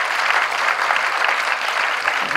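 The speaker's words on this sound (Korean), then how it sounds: "감사의 박수" Audience applause at a foreign ministry talk concert, a steady, dense wash of clapping from a crowd that continues evenly throughout the short span.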